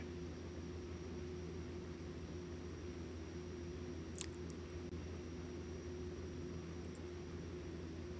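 The Pilatus PC-12 turboprop idles in X-Plane 11 before taxi, a steady low droning engine hum that holds constant, with one faint click near the middle.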